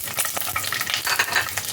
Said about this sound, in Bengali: তেলটা গরম হয়ে গেছে। এবার আমি এর মধ্যে দিয়ে দেব গোটা রসুনগুলো,